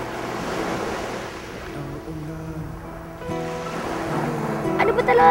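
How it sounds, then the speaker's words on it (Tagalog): Sea waves wash and rumble steadily at moderate loudness with some wind noise, while a voice speaks over them. "Inoobserbahan niya ang laki at kilos ng mga alon."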